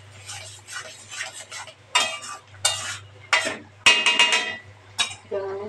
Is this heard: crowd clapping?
no